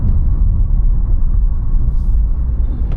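A car engine labours up a steep uphill road through a forest sanctuary with blind bends, a loud continuous rumble close by without any break.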